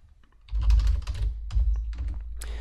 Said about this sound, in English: So I'll go ahead and type in an incident number.